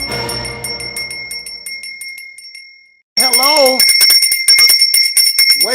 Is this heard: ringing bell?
yes